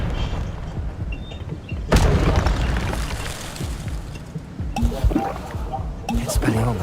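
Spellcasting in Hogwarts Legacy, including an Expelliarmus disarming spell, with sharp magical bursts and impacts cutting through combat noise while a voice speaks over the action.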